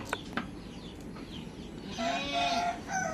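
A mother hen clucks nearby in short calls, followed by a louder, drawn-out cackle near the end.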